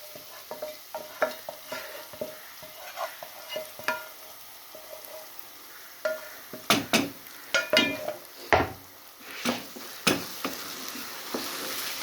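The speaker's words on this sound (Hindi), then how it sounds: "फ्लेम थोड़ा हाई कर देंगे और जो है गुड़ का शरबत ऐड कर देंगे" Turnip halwa cooking in a hot pan over a raised flame, with jaggery syrup poured in and stirred, giving a steady sizzle and repeated sharp scraping knocks of a spoon against the pan.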